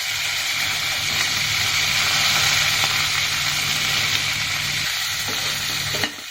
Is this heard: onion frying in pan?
yes